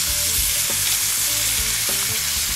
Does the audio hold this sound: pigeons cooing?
no